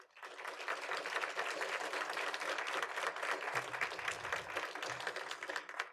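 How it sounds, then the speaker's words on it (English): A room at a school board meeting fills with steady applause for honored students, many hands clapping densely and evenly for several seconds before tapering off at the end. "I think that deserves a round of applause"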